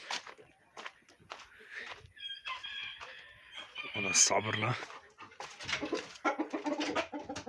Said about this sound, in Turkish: Horozumuza çıkaralım.